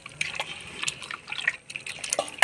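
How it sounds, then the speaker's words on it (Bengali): Water poured to rinse chhana, a fresh cottage cheese, during a Kashmiri-style curry preparation, sounds as light splashing and trickling with a few drips, close by and fairly quiet. "এবার হচ্ছে দ্বিতীয় ধোয়া।"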